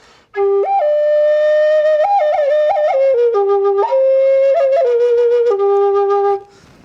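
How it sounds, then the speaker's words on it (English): A double flute plays a bright, breathy melody in stepped notes with a sustained second tone alongside, loud and close, no voices. "This is a double flute here."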